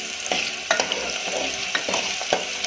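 Onions sizzle steadily in a hot pan over a high flame for a Gujarati ridge gourd sabzi, with a few sharp stirring scrapes standing out close against the constant frying hiss.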